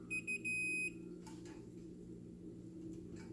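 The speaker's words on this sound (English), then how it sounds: "I touch the other end of the wire, and it beeps and tells me it's okay." A multimeter continuity tester gives short beeps, two quick chirps and then a longer tone, faint and close in a quiet room, followed by light handling clicks.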